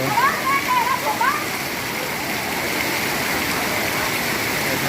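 Steady heavy rain pours down during a flood in a Thai village, a dense continuous hiss close by, with a few faint whistling tones early on and no clear talk over it.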